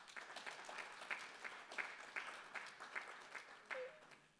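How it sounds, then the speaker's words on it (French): An audience at the 2021 rural innovation prize ceremony at Université Paris Dauphine applauds Paul Mathieu, with faint, distant, steady clapping and a few sharper individual claps standing out throughout. "on peut l'applaudir"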